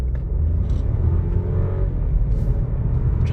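A VW Taigo accelerates hard with its gearbox in sport mode and the throttle held flat, giving a loud, deep, steady engine rumble with heavy road noise from inside the car.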